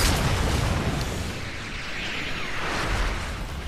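Rocket explosions in the Fortnite video game, a dense roaring blast of broadband rumble that fills the whole moment, loud and sustained without any talk.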